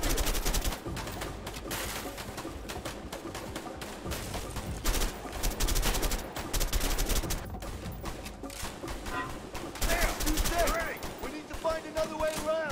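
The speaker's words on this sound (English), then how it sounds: "Can I shoot him with a bullet in his head?" Gunfire in the co-op prison-escape game A Way Out: dense, repeated shots and bursts run through the whole stretch, loud and close, with game sounds and occasional voices mixed in.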